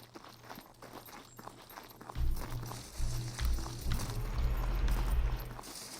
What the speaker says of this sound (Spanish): escuchar ese burro otra vez.